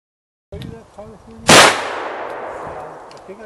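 A black powder rifle fires at a squirrel-shaped target on an outdoor trail walk. It gives one loud, sharp report with a long fading rumble behind it. Faint voices come before the shot.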